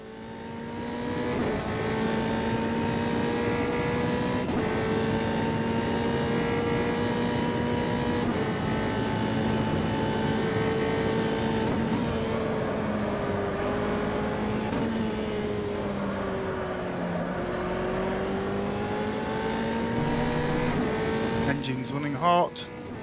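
A Formula 3 race car in a racing video game at Suzuka screams at high revs, shifting up and down through gears as it laps, loud and continuous throughout.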